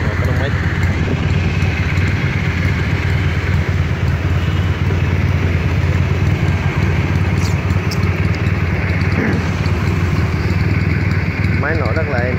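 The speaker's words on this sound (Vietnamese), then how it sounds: "Máy nổ rất là êm, vẫn hoạt động bình thường nha" Honda Rebel NC170 motorcycle with radiator and cooling fan idling smoothly, a steady close engine rumble throughout with a voice talking over it.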